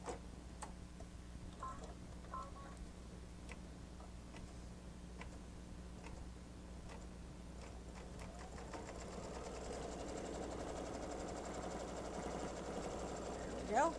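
An embroidery machine stitching an in-the-hoop mug rug, a faint steady mechanical hum with soft ticking needle strokes that grow denser and louder in the second half.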